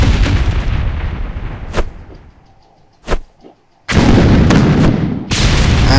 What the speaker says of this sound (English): I am using grenades to kill these dinosaurs.